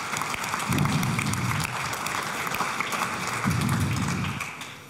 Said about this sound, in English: A round of applause, please, for all of our wonderful women up here on stage.